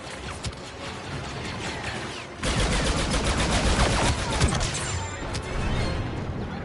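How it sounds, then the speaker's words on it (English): Sustained barrage of weapon fire from an MTT walker in a Star Wars video game, steady and dense, getting louder and heavier midway with rapid overlapping blasts and booms. "MTT preparing to fire."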